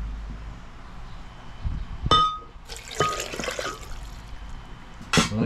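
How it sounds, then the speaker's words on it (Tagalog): Water splashes into a blender jug already holding avocado chunks, with a few pouring gushes and clinks against the container, heard fairly close and alone. "Lagyan natin ng tubig."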